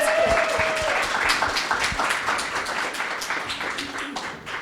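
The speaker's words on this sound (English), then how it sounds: "Let's get a round of applause for our entrepreneurs who are here tonight to present." Audience applause fills a room at an evening entrepreneur accelerator final presentation event, a steady dense clatter of many hands that holds fairly loud throughout and eases slightly toward the end.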